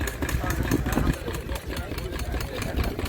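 A Lister stationary engine idling at a vintage rally, an even, thumping chug close by with a faint voice mixed in.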